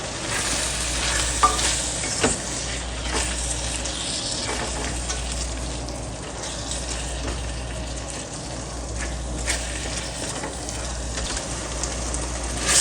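Four-colour bell peppers stir-fry in a hot pan for pickle macaroni, giving a continuous loud sizzle with scattered stirring scrapes and no voices.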